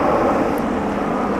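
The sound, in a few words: Air Canada Boeing 767 airplane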